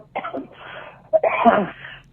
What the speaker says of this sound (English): she really got to get that cough looked at there